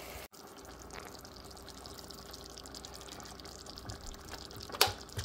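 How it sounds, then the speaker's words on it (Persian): Water is poured into a pot over chicken with grated tomato for cooking, a soft continuous trickling splash close by, ending in a brief louder clink. "آب را برای پختن مرغ‌ها اضافه می‌کنیم."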